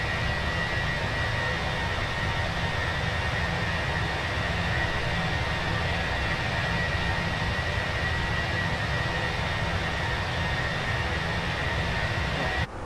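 Steady, loud jet engine roar from the Fenix A320 airliner in Microsoft Flight Simulator, heard from outside the aircraft as a continuous broadband whine and rumble with a high tone, with no talk.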